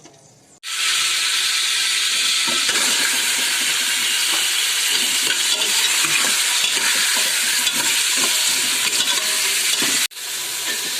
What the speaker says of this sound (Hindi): अब इस ऑयल में मैं पहले चिकन फ्राई करूंगी